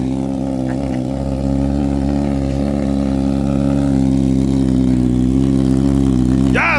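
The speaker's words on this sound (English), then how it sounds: "Let me also warm up my bike" Triumph or BMW motorcycle engine warming up at a steady, loud idle, with a slight lift in revs early on and a continuous deep rumble throughout.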